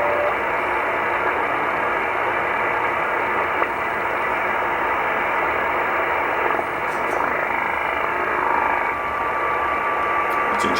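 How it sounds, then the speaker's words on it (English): Steady shortwave utility-band signal around 18–20 MHz, a continuous buzzy over-the-horizon radar tone sitting in dense static hiss, loud and unbroken throughout with faint tuning blips. "What you just heard here is probably some kind of over the horizon radar."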